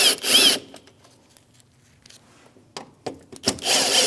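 Torx bit turning out two screws on a 2016-2025 Chevrolet Malibu headlight area: short scraping, ratcheting bursts at the start and end, close and fairly loud, with a quiet stretch of faint handling noise between.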